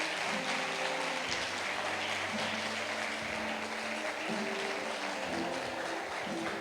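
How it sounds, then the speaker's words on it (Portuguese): A church congregation applauds together in a continuous wash of clapping that holds steady throughout, with faint voices mixed into the crowd noise. "Quem entendeu, aplauda o Senhor Jesus."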